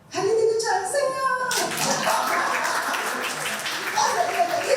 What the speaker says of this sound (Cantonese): 係你哋嘅掌聲啊！